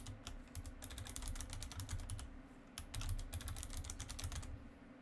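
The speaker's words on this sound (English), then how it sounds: "I'll type in a password here." Fingers tap rapidly on a computer keyboard, a steady stream of close, crisp key clicks with one short pause midway, entering a password.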